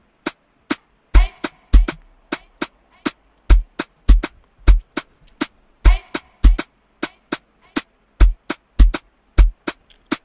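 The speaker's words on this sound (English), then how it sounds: "it actually started with a top loop that sounds like this." Afrobeats top drum loop: crisp, sharp hits repeat in a tight syncopated pattern with low thumps underneath, cycling evenly for about ten seconds, up front and alone.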